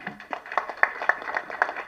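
Audience applause at an Agaram Foundation event where actor Sivakumar is giving a speech, a light patter of hand claps that swells in brief bursts, moderately close, with no talking over it.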